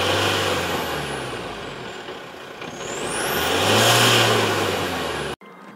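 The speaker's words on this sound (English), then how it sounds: "Here, all the power is getting diverted to the free wheel, and the tire with traction is not getting enough power to move the car forward." An Isuzu V-Cross in two-wheel drive with a factory open differential revs hard while one wheel spins freely. The engine drone stays loud and steady, swells for a few seconds, then cuts off abruptly near the end.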